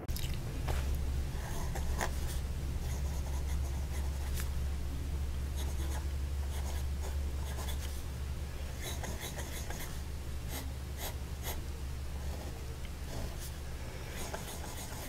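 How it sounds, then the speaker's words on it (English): Vintage Swan Mabie Todd 3212 fountain pen with a smooth nib writing in sepia ink on paper, a soft continuous scratching and gliding with brief strokes and pauses, close up over a steady low background hum. "this is an extremely smooth nib. It just glides across the paper."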